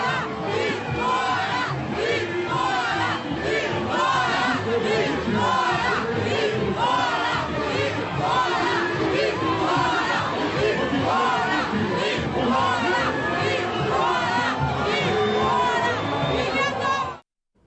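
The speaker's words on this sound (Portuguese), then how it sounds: "O governador do Rio, Wilson Witzel, foi vaiado várias vezes pelo público que assistiu aos ensaios técnicos das escolas de samba" A large crowd at a samba school technical rehearsal at the Sapucaí in Rio de Janeiro roars and jeers at the state governor, with sustained loud massed voices and shouting lasting almost the whole stretch before cutting off.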